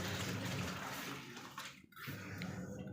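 A washing machine fills with water for a laundry load, a steady rushing gush of water close by that dips briefly before carrying on.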